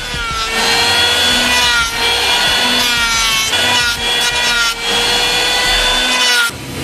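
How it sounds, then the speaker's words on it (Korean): A chainsaw roars loudly as it bites into timber for building a traditional Korean hanok, throwing sawdust, its engine pitch rising and dipping with the cuts before stopping abruptly near the end. "지목을 할 때 전기톱은 없어서는 안 될 도구지만 귀를 찌르는 듯한 굉음과 무수히 날리는 톱밥을"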